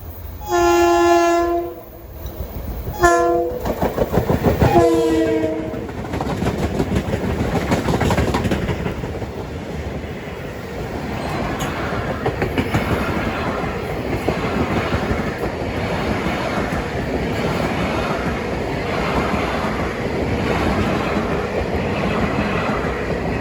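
Long Island Rail Road train 1712 sounds several loud horn blasts at a crossing near Cold Spring Harbor, then rumbles past close by with a steady rolling roar and clatter.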